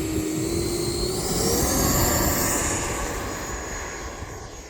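An E-flite Viper 90mm electric ducted-fan RC jet taking off, a steady loud whining rush with a rising whistle that swells then fades slightly as it climbs away.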